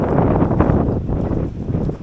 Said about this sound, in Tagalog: Bigbig mo to, napakalakas ng hangin.